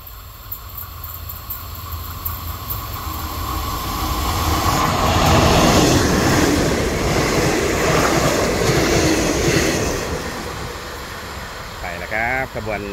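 A GEA 4559 diesel locomotive hauls train 418 past, a broad rumbling roar that swells from the start, peaks near the middle and slowly fades, with a voice talking over it.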